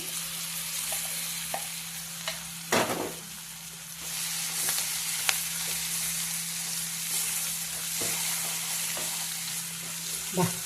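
Tempering (talimpu) for a ridge gourd chutney frying in hot oil: a steady broadband sizzle throughout, close and loud, with a few brief crackling bursts and light stirring scrapes over a low hum.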